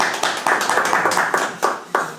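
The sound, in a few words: audience applause for guest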